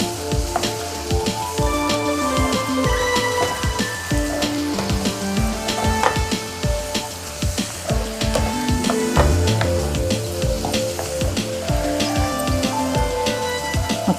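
Spring onion and egg curry simmers and sizzles in a pan after a teaspoon of chili powder is stirred in, giving a steady, dense crackle with frequent small pops, fairly close and continuous, with no talking.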